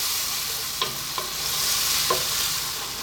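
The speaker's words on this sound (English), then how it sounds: "Stir it every now and then." Tomato masala frying in a pan for a paneer and peas curry, stirred with a few soft scrapes against a steady low sizzle, with no voices.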